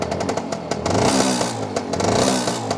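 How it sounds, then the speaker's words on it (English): 1964 Lambretta Li Series 3 Special scooter with a 185cc Casa kit, its two-stroke engine running close by with a rapid, rattly idle and slight revving. "Nice sounding 2-stroke motor."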